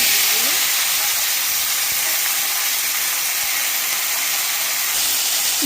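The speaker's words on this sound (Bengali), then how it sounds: "তো এখানে ভেজে নেব ঝিঙেগুলো দিয়ে দেব।" Sliced ridge gourd fries in hot oil in a pan, giving a loud, steady, unbroken sizzling hiss close by.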